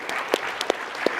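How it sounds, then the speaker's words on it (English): An audience at a tech startup conference claps in a brief, dense burst of applause, with a few louder individual claps rising out of the steady patter. "one more round of applause for Vise AI"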